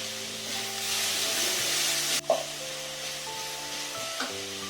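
Ginger-garlic paste sizzles hard in a hot pan for green peas masala, a loud, constant hiss with a brief scrape and clack of stirring near the middle and another soft knock near the end.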